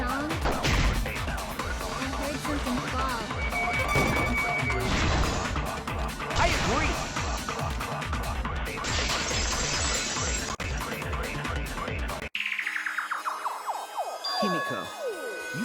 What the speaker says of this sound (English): It sounded like something heavy fell down and hit the floor really hard.